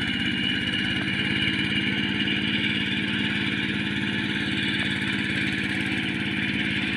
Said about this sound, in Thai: รถตีดินไม่มาไถเองเลยครับแหมไม่รอแล้ว